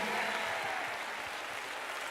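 Church congregation applauding in praise of the Lord, a sustained soft wash of many hands clapping at a distance, faint and even throughout.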